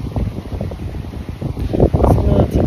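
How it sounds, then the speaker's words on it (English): Wind gusts buffet the microphone at a Miami beach, a loud rumbling roar that swells and dips in uneven bursts and grows stronger toward the end. "It's a little windy."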